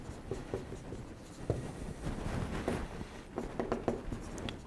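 Chalk or marker writing on a board during a university lecture: soft, continuous scratching and tapping strokes at low volume, with no voices over it.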